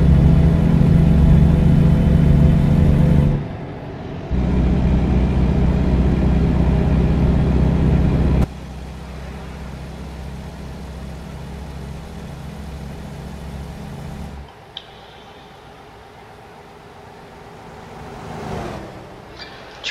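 A Volvo truck with a 12-speed transmission runs with a loud, steady engine drone that drops in level at several points as gears change, settling into a quieter hum.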